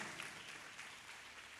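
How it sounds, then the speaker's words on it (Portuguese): A church congregation claps during an evening communion service, a dense, steady wash of applause filling the whole short stretch without pause. "vamos recebê-los com uma forte salva de palmas"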